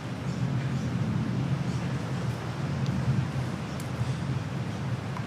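Heavy typhoon rain pours outside in a steady, dense hiss with low rumbling weather noise, constant and fairly loud throughout with no voices.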